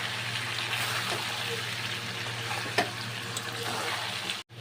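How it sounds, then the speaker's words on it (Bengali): Jackfruit curry with cashew-poppy paste fries in ghee in a pan, giving a steady close sizzle with a few stirring scrapes and clicks. "আর দিয়ে দেবো কাজু বাদাম আর পোস্তর যে পেস্টটা আমি করে রেখেছিলাম সেটা দিয়ে দেবো। আবারও কিন্তু 2 মিনিট মতো ভালো করে কষিয়ে নিতে হবে।"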